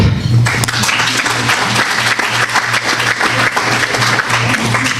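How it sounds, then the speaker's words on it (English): Audience applause at a talk on Louisiana healthcare policy, a loud, steady burst of clapping from a crowd lasting several seconds over a low, sustained hum. "And I hope, if you agree, clap."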